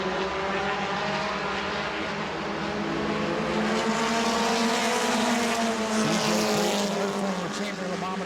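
Stock race cars at New Smyrna howl past in a pack, their engines making a continuous, loud, rising and falling whine with layered harmonic tones. A commentator talks over the racing.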